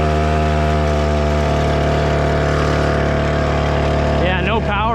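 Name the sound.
mini bike engine running with blocked exhaust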